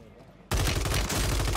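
Renetti SMG firing in a shooter video game: after a quiet moment, a loud sustained burst of rapid automatic fire starts abruptly and continues close up, with a voice talking underneath.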